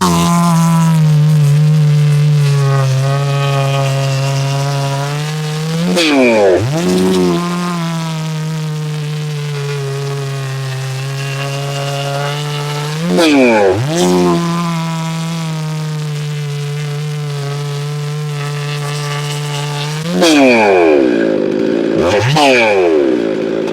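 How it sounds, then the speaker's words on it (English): A large blue Holzfforma G660 chainsaw cuts through wood, its engine droning loud and close under load, with three sharp revving surges and bogging dips as cuts finish, then a final pair of rapid throttle blips. "So I'm gonna start with the blue saw, the Holzfforma G660, and see what we can do"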